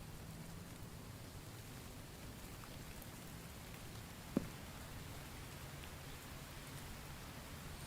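Steady rain falls over an outdoor treehouse build site, a soft even hiss throughout with a single brief tap partway through and no voices.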